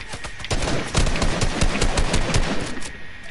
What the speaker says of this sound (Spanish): Oye, un disparo detrás, detrás.